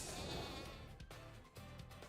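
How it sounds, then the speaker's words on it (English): Sheep in the video game Atelier Ryza 2 bleat when struck. The bleating is loud and continuous over game effects, with sharp hit sounds breaking in at intervals. "Squirrel, didn't you know you're supposed to count the sheep, not smack them"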